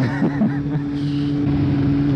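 A 2005 Kawasaki Z750 motorcycle engine idles steadily while warming up, a close, continuous low hum with a faint rhythmic throb and slight wind noise.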